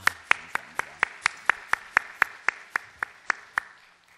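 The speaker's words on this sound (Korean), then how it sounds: "박수하겠습니다" A church congregation claps in unison, about fifteen crisp, evenly spaced claps in a steady quick rhythm that fade slightly at the end.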